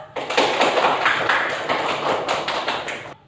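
A classroom group claps for a student group that has just presented, giving a burst of dense, close applause that lasts about three seconds before stopping abruptly.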